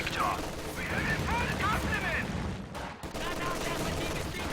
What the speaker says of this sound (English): MG42 is trying to suppress these conscripts as they close in